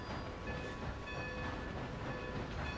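A train rumbles along in Red Dead Redemption 2, a continuous low mechanical roar with faint steady tonal hums, fairly quiet and with no one speaking.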